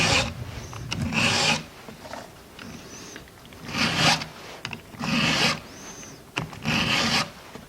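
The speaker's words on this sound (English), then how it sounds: "Sharpening saws." Hand file rasping along a saw's teeth during sharpening, five steady close strokes with short gaps between them, no talk.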